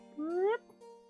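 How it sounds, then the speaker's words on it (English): A single short, rising meow from a cat in the video game Guard Duty, fairly faint over a steady low hum. "Angry kitty."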